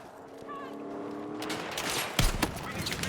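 Gunfire in the video game Battlefield 6: a thin, steady rattle in the first second and a half, then a louder, denser burst of shots and impacts that peaks near the middle and carries on to the end, with no talking.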